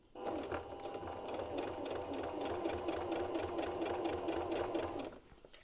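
A sewing machine stitches a T-shirt in a steady, fast mechanical run of needle clatter and motor hum lasting about five seconds before stopping, close and alone.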